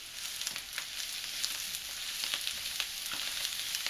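Green onion sizzles in hot bacon grease in a pan, a dense steady crackle and hiss with small pops throughout, close and fairly loud, with no voices over it.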